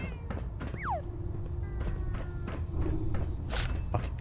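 A cat meows in the video game Fallout 4, a single rising-and-falling meow over soft footsteps, thuds and game ambience, fairly quiet.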